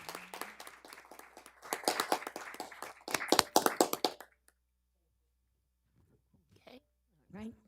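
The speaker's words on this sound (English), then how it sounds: "I really would like to give them a round of applause for all their work" Hands clapping at a township council meeting, a burst of fairly close claps for about four seconds that then stops, leaving near silence with a few faint sounds.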